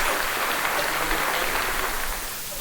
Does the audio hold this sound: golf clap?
yes